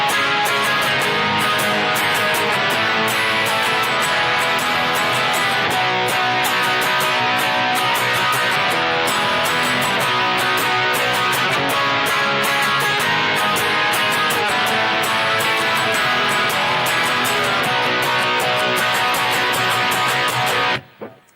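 Distorted electric guitar plays the verse of a song, with steady driving strummed chords. It runs continuously and loudly for about twenty seconds, then stops abruptly, and no one speaks.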